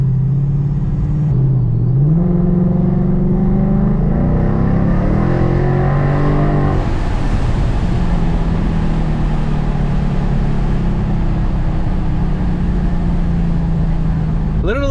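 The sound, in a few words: bagged and boosted 5.0 Mustang driving on test drive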